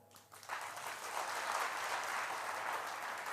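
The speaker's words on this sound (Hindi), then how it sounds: "मेरी बात समझ में आई है तो ताली बजाएं" A large crowd at a Pandokhar Sarkar religious darbar breaks into sustained applause, rising after a short quiet start and holding steady and dense for the rest of the moment.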